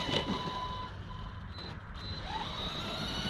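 A radio-controlled car, a Team Corally Jambo buggy on a 4S battery, backs up in reverse with a steady motor whine and faint high tones over constant background noise, no voices.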